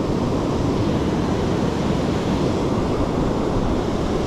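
Ocean surf rolls in at the shore as the tide comes in, a loud, continuous broadband roar with steady wind buffeting the microphone and no voices.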